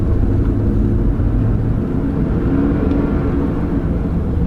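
A Hummer H3 with a transmission that slips when it shifts into third gear, heard as a loud, steady drivetrain rumble and drone from up close, with no speech over it.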